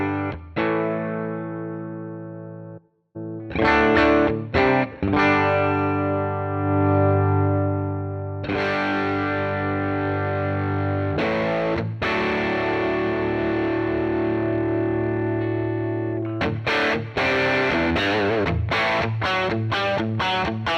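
An electric guitar runs through a Quad Cortex modeling a US Deluxe '65 reissue amp, playing chords and single-note lines with sustained ringing passages, brief pauses and faster picked runs, loud and close with no talk.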